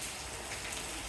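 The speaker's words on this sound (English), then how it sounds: "It's raining." Steady rain falling outdoors, a dense continuous patter of drops on surfaces, even and close throughout with no voices.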